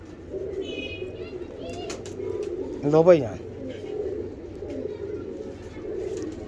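A Chapra pigeon gives a short, close coo in the middle, set against steady background hum while someone talks nearby.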